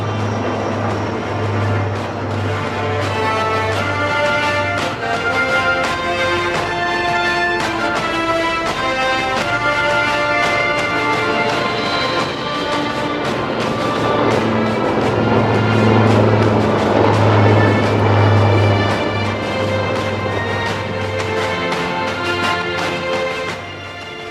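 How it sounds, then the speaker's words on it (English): HAL Dhruv Advanced Light Helicopter Mark I of a military helicopter display team flying at the Aero India 2023 air show in Bengaluru, giving a loud, steady engine and rotor drone that swells for a while midway and continues throughout. "we can now see the Advanced Light Helicopter Mark I Dhruv of the Sarang Helicopter Display Team"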